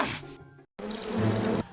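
Bees buzz in the Goosebumps Attack of the Mutant video game, a close, loud droning hum that cuts out briefly, then returns fuller and keeps going without speech.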